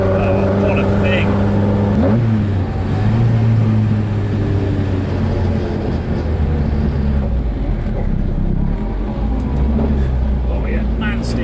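A Cosworth-powered Ford Escort RS2000 race car drives with a steady, loud engine drone heard from inside, pitch shifting slightly as it moves.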